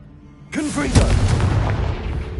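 Confringo fire spell blasting in Hogwarts Legacy: a sudden heavy boom with a crackling burst that stays loud and rumbling, game sound effects filling the space without talk.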